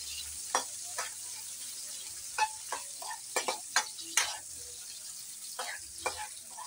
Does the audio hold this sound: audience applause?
no